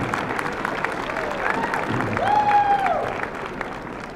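Audience applause and cheering at a university graduation ceremony, a steady dense wash of clapping from a large crowd in a hall, with occasional shouts and whistles rising above it.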